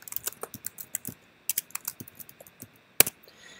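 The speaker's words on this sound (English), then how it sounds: "We're going to type in a password" A password typed on a computer keyboard, quick bursts of close, crisp key clicks with short pauses and one louder final keystroke.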